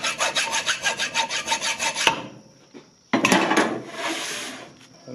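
A steady, rhythmic rasping scrape from cleaning the bolt slot on a Case 430 tractor steering box, about ten even strokes, then a pause and a rougher burst of metallic scraping, close and with no talk.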